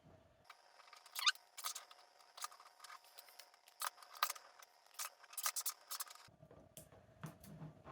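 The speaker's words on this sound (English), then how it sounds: "I'm just going to peel these labels off and then stick it down" Sticky-backed labels are peeled off Velcro pads in a string of faint, sharp crackling tears and clicks, close by and irregular, followed by a few softer rustles over a low background hum.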